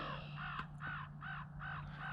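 Several crows caw in a steady series of harsh calls, about five evenly spaced bursts, fairly close over a constant low hum outdoors.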